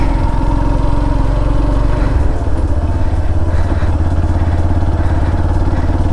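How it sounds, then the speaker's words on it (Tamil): Yamaha FZ-S V3 BS6 motorcycle idling with a steady, close exhaust note, a deep even throb that drops slightly in pitch partway through and holds alone without talk. "எக்ஸாஸ்ட் நோட் பார்த்தீங்கன்னா ரொம்பவே சூப்பராக இருக்குது."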